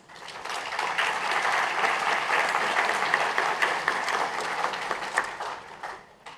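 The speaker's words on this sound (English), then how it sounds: "Please join me in giving them a round of applause." Audience applause at a BSBI university graduation ceremony honouring staff who supported graduates, a dense, sustained wash of clapping from a large crowd that swells quickly, holds steady for several seconds, then tapers off.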